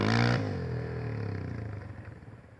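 A KTM dirt bike engine roars loud and close at the start, then holds a steady throbbing drone as it rides through mud, with no voices.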